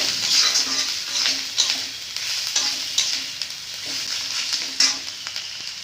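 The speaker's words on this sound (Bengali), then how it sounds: "ভালো করে মশলাটাকে ভাজতে হবে" Onions and ground spices, chili, coriander, turmeric and cumin, fry in a pan with a continuous sizzle, broken by repeated spoon strokes scraping and tapping against the metal.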